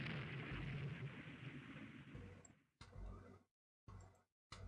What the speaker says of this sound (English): Gunfire into their destroyers